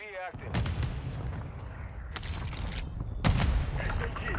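Video game gunfire, bursts of booming shots over a dense rumbling backdrop, with sharp cracks near the start and again about three seconds in, while players talk over the action.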